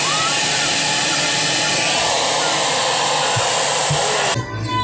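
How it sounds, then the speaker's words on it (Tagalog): A loud, steady hot air blower roar runs almost continuously as it melts ice blocking a Samsung inverter no-frost freezer fan, then cuts off abruptly near the end, leaving a low hum. "Ginamitan na natin ng hot blower."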